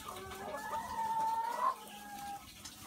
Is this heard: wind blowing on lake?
no